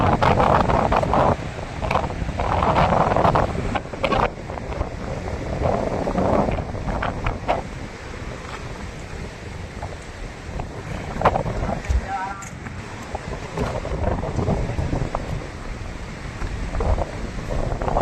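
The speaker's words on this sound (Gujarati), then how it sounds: "વાહ હવા મસ્ત આવે ઠંડી ઠંડી ગુલ ગુલ હવા આવે" Cool wind gusting steadily at the seashore, a loud broadband rush with buffeting on the microphone, waves and water faintly beneath, and a voice briefly talking over it.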